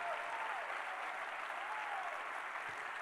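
A church congregation applauds in praise, a steady, even wash of clapping from many hands heard at a moderate distance, with a faint voice rising over it.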